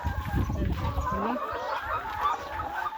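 Chickens cluck in a coop during morning egg collecting. Soft, low clucks come early, partly under a person talking nearby.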